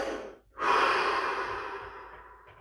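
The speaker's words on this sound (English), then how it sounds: "Take a deep breath." A deep breath during a guided breathing exercise: a short inhale, a pause, then a long, airy exhale that fades slowly, close and clear with no talking.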